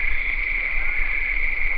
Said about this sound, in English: What is that, crickets?